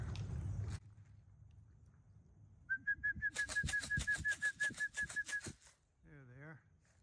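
Racing pigeons in flight at a loft during a pigeon race, a rapid run of wing flaps and a steady whistle close by, followed by a short warbling call, with rustling at the start.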